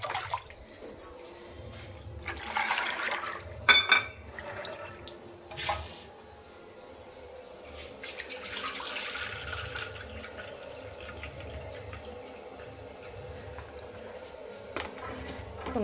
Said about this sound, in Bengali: জল দিয়ে ভালো করে ধুয়ে নিই।